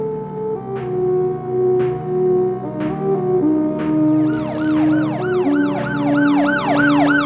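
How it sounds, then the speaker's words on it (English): An ambulance siren wails in fast rising and falling sweeps, loud and steady, after a stretch of steady tones broken by regular sharp clicks. "It'll be good enough until the ambulance gets here."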